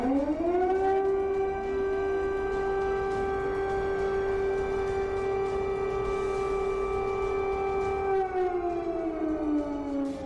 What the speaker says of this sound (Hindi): चौबीस घंटे से व्हाइट हाउस में सायरन बज रहा है।